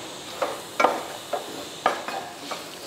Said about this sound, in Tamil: இப்போ இந்த முட்டையை கலந்து விட்டுறலாம். அடுப்பை ஹை ஃப்ளேமில் வச்சுக்கோங்க.